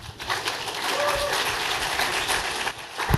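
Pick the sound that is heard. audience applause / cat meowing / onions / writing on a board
audience applause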